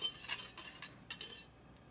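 Eggs being mixed into a dish with a utensil: a few light scraping clinks against the pan or bowl in quick, uneven strokes, close and fairly quiet.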